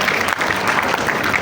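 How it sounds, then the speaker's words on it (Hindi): A classroom group applauds a student during a coding lecture on Next.js hooks, a brief burst of steady, close clapping with no talk over it. "तालियां भाई।"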